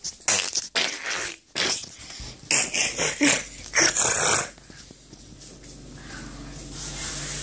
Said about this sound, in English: Some other dogs also.